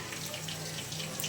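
Tap water runs steadily into a sink while garlic and chillies are washed under it, a continuous close splashing hiss with no talk.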